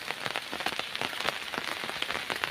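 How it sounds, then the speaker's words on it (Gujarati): Steady rain falling in a village during the monsoon, a dense, continuous patter of drops hitting surfaces close by, with no voices. "હજી આયાથી વરસાદ ફૂલ ચાલુ હતો"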